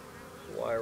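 Honey bees buzz up close during hive splitting, a brief rising whine that grows louder and higher toward the end.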